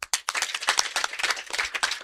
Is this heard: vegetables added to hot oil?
no